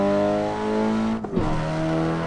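Race car engine in Assetto Corsa on the Nürburgring, revving loud and close with steady harmonic drone, a brief dip and gear-change pitch drop midway, then pulling again.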